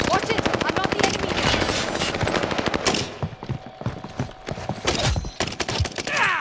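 Gunfire in Call of Duty: Modern Warfare: rapid automatic bursts at close range, pause briefly, then return as scattered shots and further bursts.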